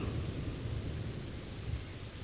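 Steady heavy rain at a dark night-time campsite during a foggy, windy storm, a dense continuous broadband hiss with low rumbling, close and even throughout, no voices.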